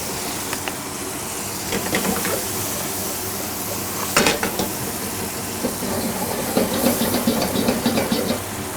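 Port wine and cream sizzle and hiss in a hot pan with venison steak, a steady loud frying noise with sharper crackling bursts scattered throughout.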